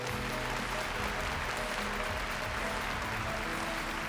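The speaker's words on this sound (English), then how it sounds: "So if you would give a warm round of applause for Mr. Moshe Rappaport from IBM." Applause from an audience at a lecture welcoming an IBM guest speaker, a steady, dense wash of clapping holding at an even level for several seconds with a low hum underneath, no voices over it.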